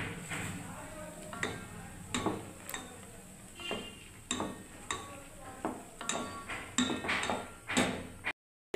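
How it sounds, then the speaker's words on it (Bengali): A ladle scrapes and clinks against a pot of salted soybeans as they are stirred, about a dozen rhythmic strokes close by with soft bubbling beneath. "আর একটু আমি হাতা দিয়ে বন্ধুরা নেড়ে দিচ্ছি সোয়াবিনটাকে"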